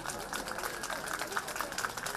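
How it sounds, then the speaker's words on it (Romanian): An audience applauds at a commune celebration day in Răucești, Neamț, a dense, even wash of many hands clapping that holds steady for a couple of seconds, with faint voices mixed in. "Să-i aplaudăm, dragii mei!"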